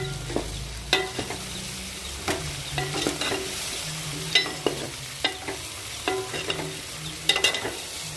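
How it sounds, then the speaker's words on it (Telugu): Chicken curry with brinjal, drumstick and tomato is stirred in a pan: a soft sizzle underneath repeated sharp scrapes and taps of a spoon against the pan, irregular and close, without speech. "ఒకసారి కలుపుకుందాం."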